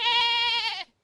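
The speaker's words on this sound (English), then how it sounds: "Happy goat noises." A single goat bleat from a video game, a clear, close, wavering cry lasting under a second before cutting off cleanly.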